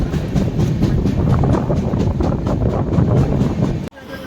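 A train rolls with a steady, loud rumble and wind roar near Raika Bagh Palace station, just before Jodhpur railway station in India, then abruptly drops quiet as it comes to a halt.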